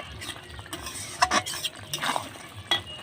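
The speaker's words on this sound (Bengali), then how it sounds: "এগুলো দিয়ে একটু ভালো করে কষিয়ে নিয়ে উপর থেকে ডিমটা ছড়িয়ে দেব" Spiced chicken bharta with fenugreek seeds is stir-fried in a pan with egg about to go in. It gives close, uneven scraping strokes and clinks over a soft sizzle, with a few louder knocks.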